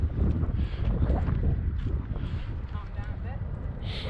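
Gusting wind buffets a microphone outdoors as a small foam board remote control plane is flown, a steady low rumble filling the whole stretch, close and fairly loud, with faint voices underneath.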